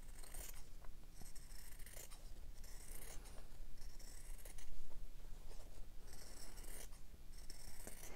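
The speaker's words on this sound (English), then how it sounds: "And then I'll cut that circle out. So I'll just go around that circle." Scissors cut a circle from fabric for a slow-stitching Halloween mandala, giving a soft, continuous close-up rasp of repeated blade closures as the cut works around the curve, with no talking.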